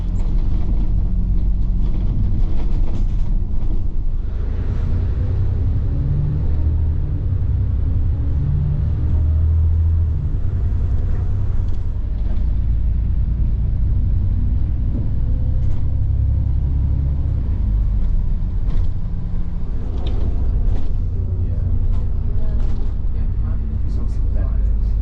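A double-decker bus riding through Norwich rumbles steadily from the inside, with engine drone rising and falling as it moves, and someone talks quietly over the noise.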